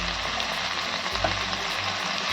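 Ginger paste, salt and turmeric are stirred as they fry for a pointed-gourd dorma with prawns, giving a close, continuous sizzle with light scraping. No voices.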